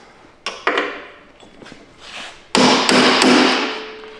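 Sharp metallic hammer strikes ring out as a rivet is knocked out on a Ski-Doo Gen 5 skid plate install, a few scattered taps at first, then a burst of four heavy blows close by.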